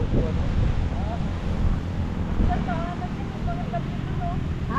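Outdoor wind gusts buffet the microphone in a loud, continuous rumble during a family outing in Tanay, Rizal, while people talk over it.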